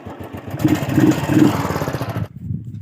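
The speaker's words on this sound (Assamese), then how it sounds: "আৰু বাইক ষ্টাৰ্ট হৈ গ'ল" A motorbike engine catches and runs with a rough, mid-pitched rumble for about two seconds before cutting off abruptly, heard close by with no talking.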